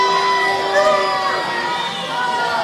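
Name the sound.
wrestling crowd reacting unhappily to the Violent Gentleman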